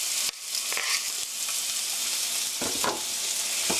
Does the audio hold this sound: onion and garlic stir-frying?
yes